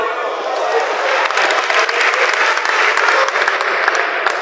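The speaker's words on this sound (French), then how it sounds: "s'il vous plaît, applaudissez au moins pour mon habillement" Loud, sustained applause from a stage-show audience in Kinshasa, dense clapping filling the whole stretch with a faint crowd murmur blended in.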